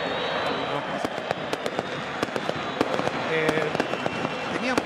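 Fireworks go off at the Club Regatas during a football club's promotion celebration, a dense run of sharp crackling bangs over a steady roar of distant noise, with people talking beneath.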